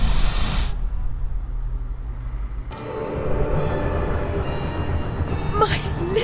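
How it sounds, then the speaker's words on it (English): Train in the video game Alice: Madness Returns, a continuous loud rumbling roar with a shift in texture partway through, faint metallic tones and a brief rising whine near the end, heard without speech. "My Lizzie, what is this train's destination?"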